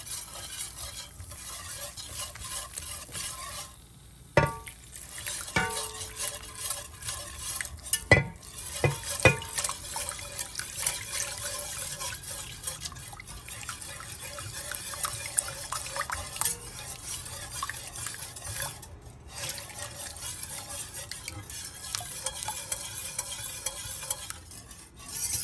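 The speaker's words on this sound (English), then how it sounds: "Because we don't want the sauce to bubble. So we have to continuously whisk." Béchamel sauce for moussaka is whisked continuously in a pan on the stove, a soft, steady scraping and swirling with a gentle sizzle, broken by a few sharp metallic clinks of the whisk against the pan.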